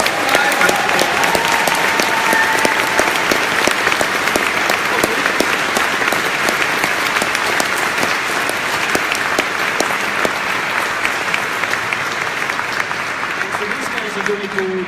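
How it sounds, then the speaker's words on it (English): A Glasgow audience breaks into long, sustained applause for a comics artist, a thick, even roar of many hands clapping close by that holds steady for nearly fifteen seconds, with faint voices mixed in. "everybody have a big thank you and a round of applause for Frank Morrison"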